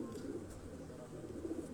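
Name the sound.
pigeons cooing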